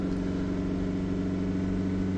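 Diesel engine of a SAIC Maxus Deliver 9 van with a diesel particulate filter fault, held at about 3000 rpm, drones steadily and loudly with a constant rumbling hum and no change in pitch.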